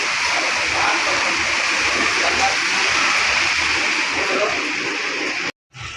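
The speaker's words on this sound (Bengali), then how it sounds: "আর অনেক বৃষ্টি আসতেছে" Heavy rain falls in a steady, dense hiss, loud and close around an apartment balcony, continuous until a brief cut near the end.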